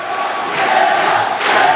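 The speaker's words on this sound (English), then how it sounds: "listen to this crowd. On fire." Wrestling crowd at a CHIKARA show roaring loudly, a dense wall of cheering and shouts that swells near the end.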